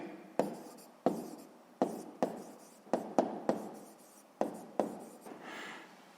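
Writing on a surface during a sixth-grade math lesson: about ten short scratching strokes at irregular intervals, each with a sharp onset and a quick fade, close and fairly quiet.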